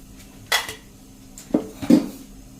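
A pan set on a gas stove with about a tablespoon of oil going in, heard as a bright metallic clank and then two duller knocks of cookware and utensils close by, with no talking.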